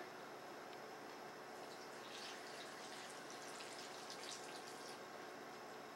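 A steady stream of mussel cooking juices pouring close by, a continuous soft splashing hiss that holds at an even level throughout.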